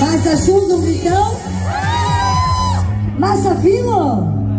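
Audience aboard the MSC Seaside cruise ship shouts and whoops loudly together to vote for an answer during a cooking quiz, a dense crowd roar with rising calls, then a brief dip and another burst of yelling.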